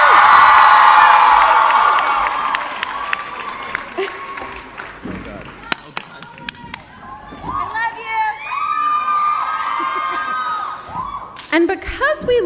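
A large crowd at a Teen Wolf Comic-Con 2016 panel screams and cheers loudly, a dense roar at first that thins into scattered shrieks and whoops, then swells again near the end.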